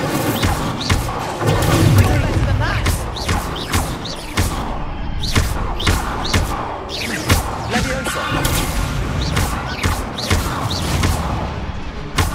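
Incendio fire spell cast again and again during a fight in Hogwarts Legacy, a string of sharp whooshing bursts and thuds at an irregular, busy pace amid combat noise.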